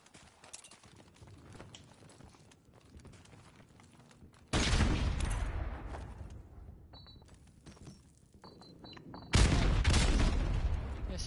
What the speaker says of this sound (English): There's so many nades that just went around me.